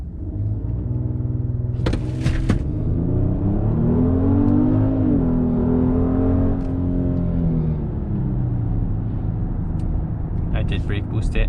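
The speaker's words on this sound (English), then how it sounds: "Let's go ahead and brake boost it again and see if we could get a better acceleration." A 2021 Genesis GV80 with an 8-speed automatic launches hard from a brake-boost start, heard from inside the cabin as a loud, steady engine drone that climbs in pitch over a deep rumble, with a few brief clicks.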